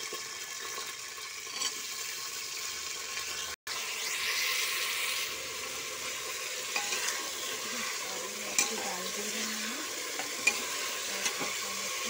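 Bottle gourd pieces frying in a pan at home, giving a steady soft sizzle with occasional stirring scrapes, fairly quiet and continuous with a brief dropout early on.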